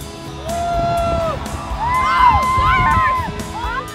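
A huge crowd packed around a hotel, restaurant, bar and parking lots in White Bear Lake cheers and whoops at the midnight bear drop, a steady roar of many voices with shouts and whistles rising across the whole stretch.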